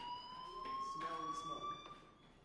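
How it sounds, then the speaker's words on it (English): School fire alarm in the Life is Strange video game, a steady electronic tonal ring held at a constant pitch, fairly faint, with a voice talking over it. "Hey, do you hear that fire alarm?"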